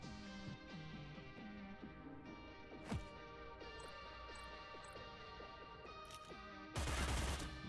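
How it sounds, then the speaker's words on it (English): Full-auto gunfire from the Cyber Knights: Flashpoint video game, faint and distant under a steady hum of game music, with one louder burst near the end. "Ah, you can hear the gunfire."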